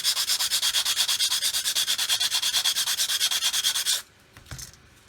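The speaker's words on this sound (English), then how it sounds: "So I can sand back a little further." Steady back-and-forth sanding of the nose of a model aircraft fuselage, a close, loud rhythmic rasping of about seven strokes per second that stops abruptly, leaving a few faint handling knocks.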